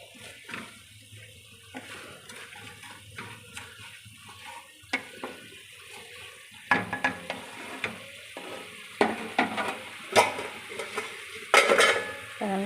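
Spice paste frying and being stirred in a pan, with soft sizzling and watery, gurgling sounds, then increasingly frequent sharp clanks and scrapes of a utensil against the pan, close and without speech.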